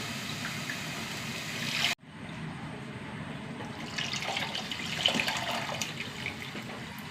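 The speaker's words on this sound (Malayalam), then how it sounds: "വാളംപുളി ഒഴിച്ച് കൊടുക്കട്ടോ." Tamarind water poured into a cooking dish for a Palakkad-style curry, a steady liquid splash and trickle running for several seconds after a brief handling clunk, moderately close, with no talk.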